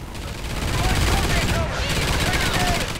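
Rapid automatic gunfire from the Xbox One video game Call of Duty Ghosts in Extinction mode, a loud, dense continuous burst of shots that rattles on for several seconds without a break.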